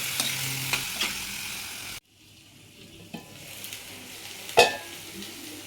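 Boiled cauliflower stirred into a sizzling curry in a pan: a loud frying hiss at first, then quieter scraping and a few sharp clinks of a spoon against the pan.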